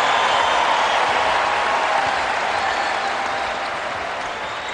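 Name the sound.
basketball fans applauding in arena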